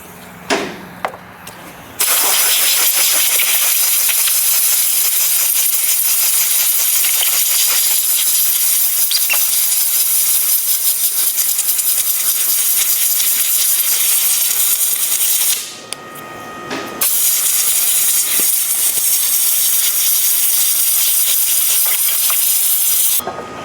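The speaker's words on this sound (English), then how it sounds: "Let me grab my air nozzle." A compressed air nozzle blows off a BMW cabin air filter in a loud, sustained hiss lasting many seconds, with a short pause midway before the blast resumes, close and dominant.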